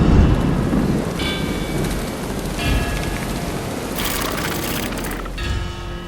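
Steady rain hisses in the video game Black Myth Wukong while thunder rumbles and cracks in several loud bursts, heavy low booms rolling under the downpour, no voices.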